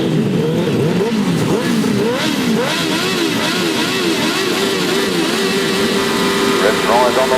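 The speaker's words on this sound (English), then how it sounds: "Revs rise on the line there." Grasstrack racing motorcycles at the British Masters, revving loudly on the start line, their engine notes rising and falling in overlapping wavering bursts under continuous commentary.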